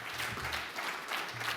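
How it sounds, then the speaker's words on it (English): Audience applause at a presidential summit and official launch event following an award dedication, a steady dense clapping from a crowd that swells and fades briefly, with no voices on top. "Another round of applause."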